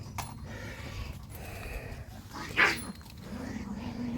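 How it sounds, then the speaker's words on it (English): Dogs barking indoors, a few sharp barks and yips, with one louder close bark standing out among moderate background noise and some speech. "Dogs go nuts."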